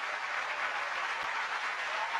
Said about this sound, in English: You clap for a really long time, don't you?